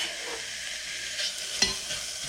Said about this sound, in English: We're gonna add the bacon and we're gonna render.